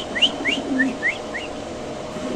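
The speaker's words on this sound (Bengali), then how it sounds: "এই যে নরের ডাকটা একটু দেখা দিচ্ছি আপনাদের, এটা হলো নরের ডাক।" A male modern fancy pigeon calls close by, giving a quick run of five short, rising whistled notes over a faint background hum.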